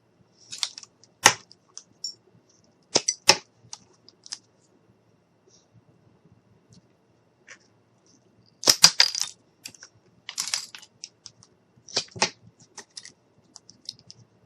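Craft sticks being cut one after another, crisp separate snaps and clicks in small clusters with quiet pauses between.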